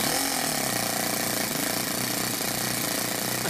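Toyan FS-S100A miniature four-stroke nitro engine running rich, a loud, steady, rapid buzzing drone with a fast mechanical rattle, close and continuous.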